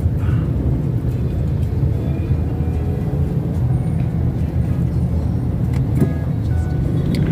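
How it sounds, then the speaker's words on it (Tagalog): A jeepney rolls past on a road, its steady low engine rumble and tire noise holding continuous and fairly loud throughout, with a few faint clicks above it and no talk. "Jeep."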